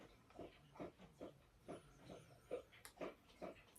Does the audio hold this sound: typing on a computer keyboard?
no